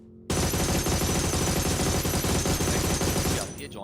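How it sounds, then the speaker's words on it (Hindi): Dense, continuous burst of rapid gunfire fills the clip from start to nearly the end, loud and relentless like automatic weapons in a game. "कुछ गोलियां दागने का प्रयास"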